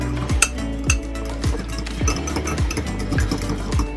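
A spoon stirs salt and black pepper into food in a pot, knocking and scraping in a quick, regular rhythm of clinks about twice a second, close and clear.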